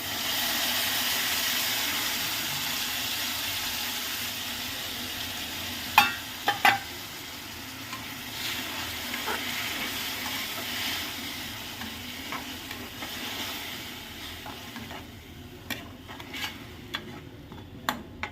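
Ground tomato sautéing in a pan for a lentil-ball curry, a steady sizzle that gradually quietens, broken by sharp spoon-against-pan clicks and scrapes as it is stirred; no speech.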